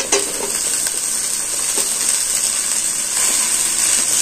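A cabbage and potato filling sizzles steadily in a pan, with a bright continuous hiss and a few soft clicks and scrapes as it is stirred. Nobody speaks.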